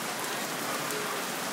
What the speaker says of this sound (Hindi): लाहौर में बहुत ही तेज़ की तूफ़ानी बारिश शुरू हो गई है